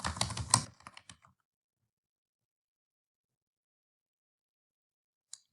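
Quick keystrokes on a computer keyboard rattle for about a second as text is typed into a Word document, then silence follows until one faint tap near the end.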